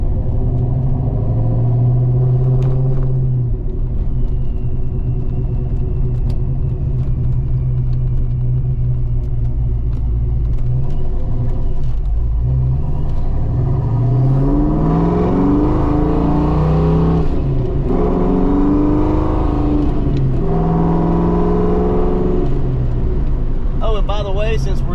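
A Ford Foxbody Mustang with a T5 manual transmission rolls slowly in third gear, its engine a loud, steady low rumble heard from inside the car, with someone talking over it throughout.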